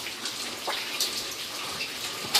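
Floodwater runs across a hotel basement floor about one to two inches deep, a steady soft trickling wash with a few brief splashy drips, no voices.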